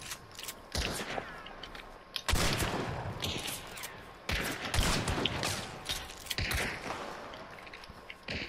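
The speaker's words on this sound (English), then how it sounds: "I'm going to shoot any second now" Gunfire in the video game Hunt: Showdown: several loud, sharp shots ring out at irregular intervals, each followed by a ringing echo that fades, with quieter ambient noise in between.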